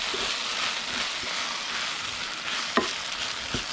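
Crumbled chicken feed is mixed into hot fat in a pan, giving a dense even sizzling hiss with a few soft knocks of the utensil, close by and without talk.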